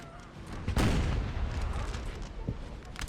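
Cannon fire on a Napoleonic battlefield in Napoleonic Total War 3, one heavy boom near the start rolling into a sustained rumble, followed by scattered softer distant reports.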